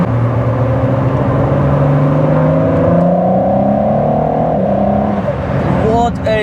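A Ford GT supercar engine revs and pulls hard, its loud droning pitch climbing steadily as it accelerates, then easing off near the end, heard close from inside the car.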